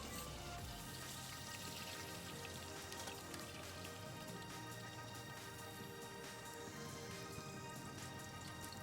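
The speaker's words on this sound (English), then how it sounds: "flip it and fry the other side" Vegetable toppings for a Japanese summer vegetable tomato curry fry steadily in a pan, giving a dense, continuous crackle and patter that holds level throughout with no talking.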